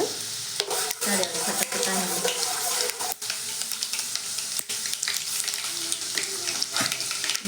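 Garlic and sauce frying in hot oil, a loud continuous sizzle with frequent sharp clicks and scrapes of stirring, and a voice speaking faintly beneath.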